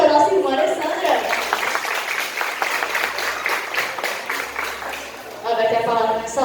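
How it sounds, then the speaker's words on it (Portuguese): Applause in a church service, a congregation clapping in a steady dense patter that continues under a voice, then grows louder again toward the end. "Palmas para nossa irmã Alessandra."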